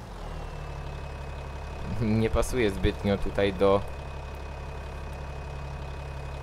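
A tractor engine idles in a farming video game, a steady low hum that runs throughout while someone speaks briefly in the middle.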